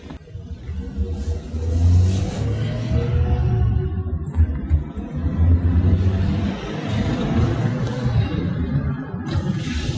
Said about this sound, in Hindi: एक टेस्ट ड्राइव हम आपको दिखाएंगे।